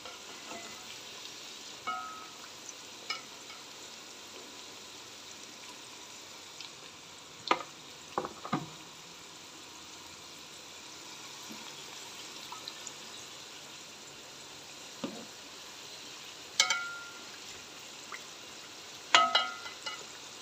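Potato pieces frying in hot oil in a kazan while cooking kazan kebab, a steady low sizzle running throughout with a few sharp utensil clinks and scrapes scattered across it.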